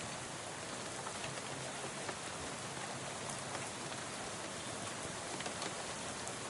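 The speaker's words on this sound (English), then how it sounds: "In pouring rain." Steady heavy rain pours down in the game Shadows Over Loathing, a dense, even hiss that fills the whole stretch without letting up and with no voices over it.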